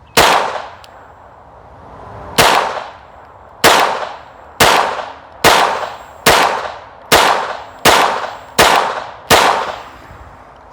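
A .22 LR Glock pistol fitted with an Advantage Arms conversion kit fires about ten loud, sharp shots at outdoor targets, each crack ringing out with a decaying echo at a fairly regular pace.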